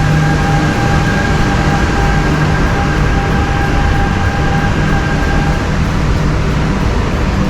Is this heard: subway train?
yes